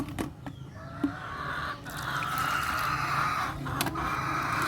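Farm chickens cluck and murmur in a steady flock chatter close by, with a few sharper calls now and then and no talk.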